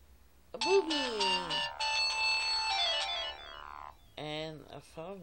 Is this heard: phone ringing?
yes